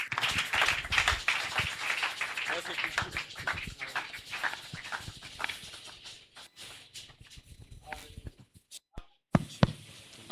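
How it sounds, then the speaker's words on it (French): A church congregation claps and applauds for the Lord, dense rhythmic hand claps that thin out into scattered claps and taps near the end. "Acclamons fortement pour le Seigneur"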